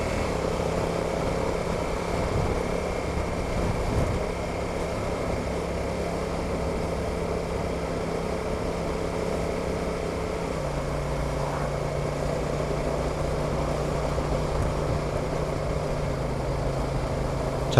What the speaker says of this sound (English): Now back on the gas, and the up changes are very smooth.